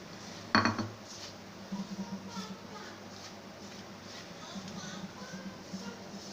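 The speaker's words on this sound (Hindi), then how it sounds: "चमचा जो है चलाते रहना है कि कहीं नीचे ना लग जाए।" A spoon clinks against a pan as gram flour is stirred and roasted over low heat for besan halwa, giving one sharp scrape near the start, then soft, scattered scraping taps against a quiet background.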